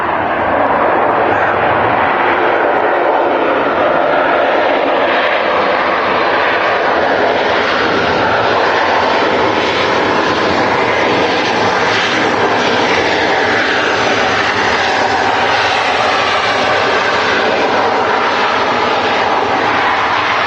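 A Ryanair passenger jet in from Alicante lands at Manchester Airport, its engine roar loud, broad and continuous, holding steady throughout with no voices over it.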